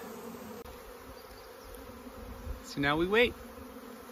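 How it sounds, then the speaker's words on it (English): Steady buzzing from a swarm of honeybees settling into a hive continues throughout, with someone speaking briefly near the end over the hum. "an increasing and overwhelming number of bees coming into this"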